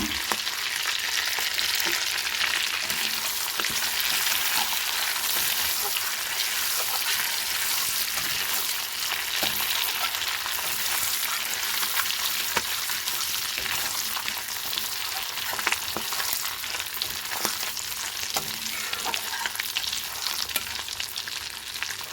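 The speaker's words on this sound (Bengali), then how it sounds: "মাছ ভাজা তেলের মধ্যে ফোড়ন দিয়ে দেবো সাদা জিরে, গোটা গরম মশলা আর একটা তেজপাতা" Whole cumin, whole garam masala and a bay leaf sizzle and crackle in hot oil left from frying prawns, a steady close frying hiss with scattered pops running the whole time, no voices.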